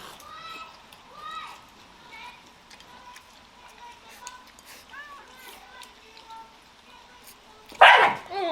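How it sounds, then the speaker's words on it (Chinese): A dog gives faint yips and whines early on, then one loud, close bark near the end, with a person talking in the background. "那个狗狗过来抢花椒吃的"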